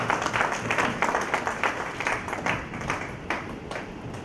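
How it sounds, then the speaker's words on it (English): A lecture audience applauds continuously, a dense wash of many hands clapping at moderate volume from start to finish. "we must give a clap in appreciation of Brother Dr. Venkateshwar"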